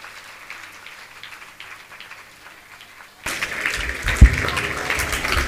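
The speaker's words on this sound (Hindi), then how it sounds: "आप लोग तालियों की गड़गड़ाहट से उनका स्वागत अभिनंदन करें" Audience applause welcoming guests at a Jain monk's discourse gathering; after a quiet, murmuring stretch, clapping breaks out suddenly and continues at moderate volume.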